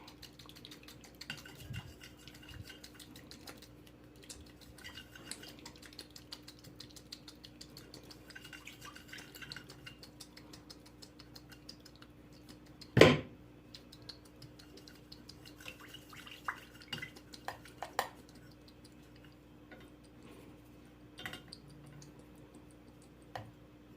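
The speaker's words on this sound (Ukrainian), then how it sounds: "і помішувати будемо" Poured liquid is stirred for candle making: sparse faint ticks, drips and light clinks in a quiet room, with one sharper knock partway through.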